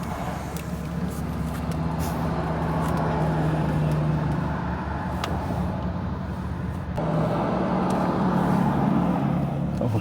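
A 2011 Honda Accord accelerating on the road, a steady low engine drone and tire and road rumble heard from inside the cabin, rising slightly toward the end.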